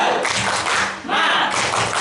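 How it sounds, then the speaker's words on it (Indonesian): A group doing tepuk semangat, an Indonesian rhythmic clapping cheer, at a teacher workshop session in Cilacap; dense, loud, close claps from many hands with a brief dip in the middle. "Tepuk semangat."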